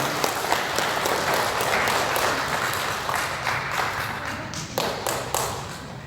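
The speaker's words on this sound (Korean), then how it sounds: "인사하실 때 큰 박수 부탁드립니다" Steady applause from a church congregation during a Korean worship service, a broad wash of clapping with a few sharper, louder claps standing out near the end.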